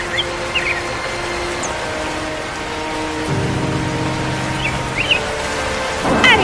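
Steady rain pours down with a constant hiss, and a low thunder rumble rolls in partway through, swelling again toward the end.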